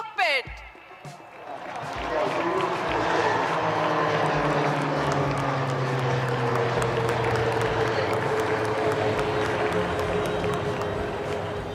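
HTT-40 trainer aircraft performing an air show display over Marina Beach, Chennai, for the Indian Air Force, a loud sustained engine roar with a falling drone, crowd noise and commentary over it.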